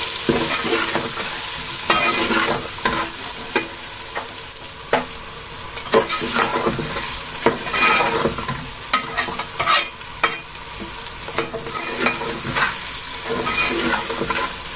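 Masala for aloo chicken is stirred and fried in a pan, with a continuous sizzle broken by frequent scraping and clattering strokes of the spoon.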